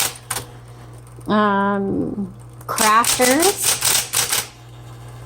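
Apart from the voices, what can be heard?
typing on a 1970s Smith Corona Electra 220 typewriter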